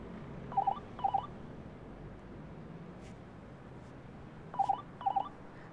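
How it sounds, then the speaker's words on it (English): A telephone rings in two double bursts, one early and one near the end, with a long pause between. The rings are fairly faint over a steady background hiss, and no one speaks. "It's ringing. Answer it."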